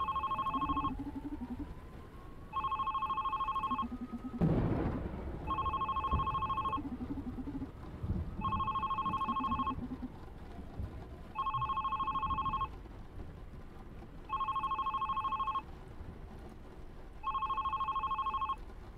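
A telephone rings repeatedly in The Red Strings Club video game, a regular electronic double-tone pattern sounding about every 2.5 seconds over a low ambient music bed.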